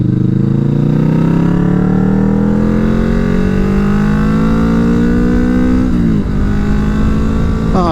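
A derestricted Kawasaki Vulcan S motorcycle engine revs up to 8,000 rpm on an open road, a loud, close drone that climbs steadily in pitch for several seconds before dropping sharply at a gear change.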